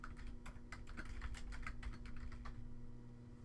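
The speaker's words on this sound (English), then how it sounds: "type your user ID and password in the respective boxes and click enter." Rapid keystrokes on a computer keyboard as a user ID and password are entered, a close, steady run of clicks that thins out toward the end, with no talk.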